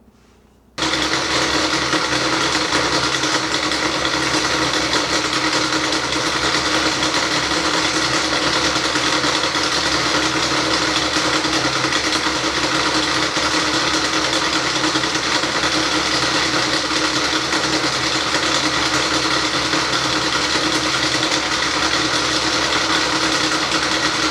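A wood lathe turns new legs for a Voice of Music record player while a skew chisel makes a smoothing cut. A loud, steady, continuous whir runs unbroken after a brief quiet start, with no speech.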